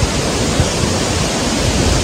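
Rushing water pours down a waterfall at Katta village in Konkan, a continuous, loud broadband roar heard up close without any speech over it.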